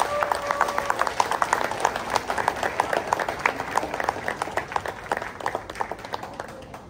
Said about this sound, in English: giving them a resounding applause